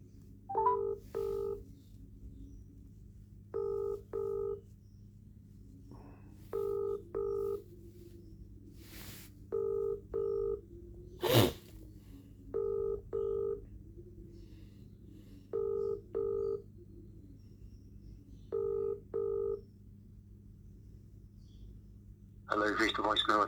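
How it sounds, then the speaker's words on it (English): A telephone dialing a call, a series of short evenly paired touch-tones repeating in groups over a low steady hum, followed by a brief burst of noise at the end. "Ring up Jonathan Smith."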